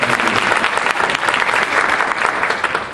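Loud, steady applause from a conference audience at a human rights gathering, a dense unbroken patter of many hands clapping for close to three seconds with no talk over it.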